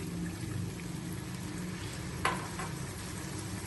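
Spices such as Kashmiri red chilli frying in a pan for a cauliflower dish as a little water goes in, a continuous close sizzle with one sharp hissing burst partway through.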